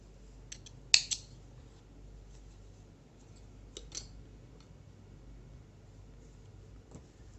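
Scissors cut crochet yarn in a quiet room, with a couple of sharp snips early on and a few fainter clicks afterward.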